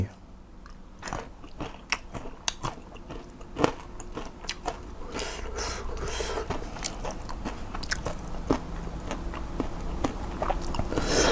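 Someone eats fresh, thick market-bought khanom jeen rice noodles topped with pounded fermented fish sauce, with close, continuous wet chewing, slurping and soft crunches filling the whole stretch.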